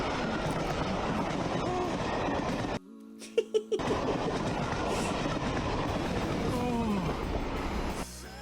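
A train sound effect plays as a stream hype train alert: continuous rolling rail rumble and clickety-clack with a short break midway, then more wheel noise and squeal, moderately loud.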